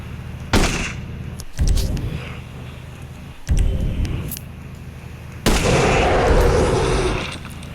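Sniper rifle shots in a video game, four loud sharp blasts spaced a couple of seconds apart, each with a rumbling tail, the last one longest and sustained.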